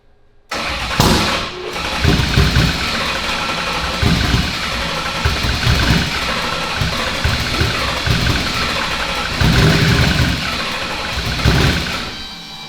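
A Coyote V8 swapped into a Fox body drag race car cranks loudly and continuously on its starter after a sharp start, churning rhythmically for about twelve seconds without catching and running.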